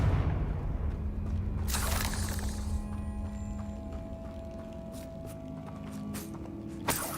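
A Confringo blasting spell goes off in Hogwarts Legacy as a deep boom, followed by a bright crackling burst and ringing magical tones that fade out slowly, with a few faint clicks afterward.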